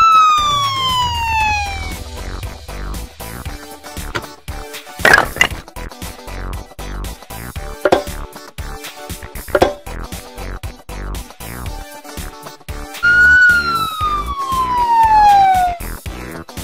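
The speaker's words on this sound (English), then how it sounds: "Police car." A police car siren wails in falling sweeps, loud and clear, returning near the end after a stretch of clatter and knocks, with no talking.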